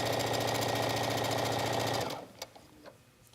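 A sewing machine stitches T-shirt fabric with a loud, fast, steady whirring rattle, heard close up, then stops after about two seconds, followed by a few soft handling clicks.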